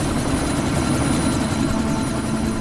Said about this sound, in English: Making a grab for the chopper.